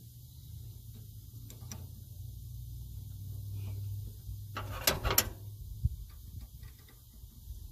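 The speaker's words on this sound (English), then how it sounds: "So you get that wrench on there to hold that, and get this last little couple of threads off of here." A wrench working a nut off its last threads on a van, heard as a low steady hum with scattered faint metallic ticks, then a cluster of sharp clanks and rattles midway before fading back to quiet ticking.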